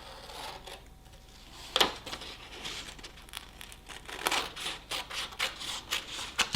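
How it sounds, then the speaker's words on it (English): Paper being cut with scissors or a cutter during a paper craft, soft close snips and crinkling rustles in an irregular series, faint and without talk. "Now you can use a cutter or just very carefully cut that part out."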